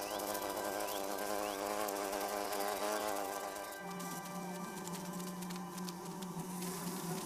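A pollen-laden bee buzzes continuously close by as it flies back to its hive, a steady insect drone whose pitch shifts partway through.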